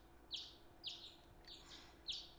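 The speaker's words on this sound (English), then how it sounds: "I woke the next morning to the sound of birds chirping." Faint video-game bird chirps repeat in a regular pattern, four short high tweets spaced about half a second apart over a quiet background.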